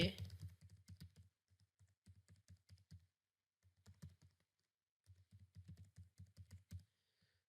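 Keystrokes on a computer keyboard while a name and details are entered into a university admission form, coming in quick bursts of clicks separated by short pauses.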